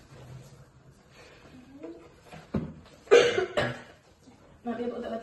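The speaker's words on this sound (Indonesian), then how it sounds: "Maaf ya Bu, untuk batuk-batuk." A person coughs several times in a row, loud and close, during a job interview, with quieter Indonesian speech before and after.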